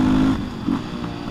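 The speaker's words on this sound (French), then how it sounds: "je vais te laisser écouter le son de la moto" A motorcycle engine idles and putters nearby with an uneven, low throbbing rumble over a brief moment.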